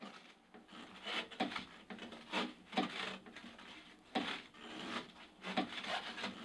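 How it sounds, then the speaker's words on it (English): Tri-Fit cross trainer running with a faulty clonk at the back, giving repeated rubbing, scraping strokes in an uneven rhythm with knocks mixed in, fairly close and moderately loud with no talking. "you can hear on the machine there's like a clonking noise coming at the back"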